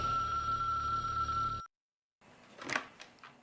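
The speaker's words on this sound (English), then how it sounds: "I'm getting a phone call" A steady electronic phone tone rings for about a second and a half, then cuts off. After a brief silence come soft handling clicks and a rustle.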